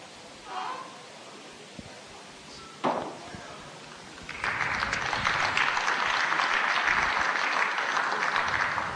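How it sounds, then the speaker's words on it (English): A crowd at an international bowls match breaks into steady applause after a good delivery, rising suddenly midway and holding at moderate level, preceded by a couple of isolated soft knocks. "There's a round of applause"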